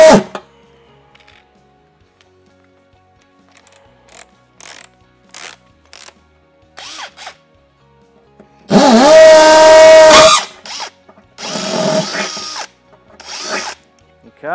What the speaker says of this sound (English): So we'll just drill this one through here now.